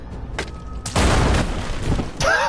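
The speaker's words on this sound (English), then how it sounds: "Hand grenade." A hand grenade goes off in the video game Mutant: Year Zero, a loud close boom with a sharp attack and a rumbling tail. A few lighter bangs come just before it, and a short whistling tone follows at the end.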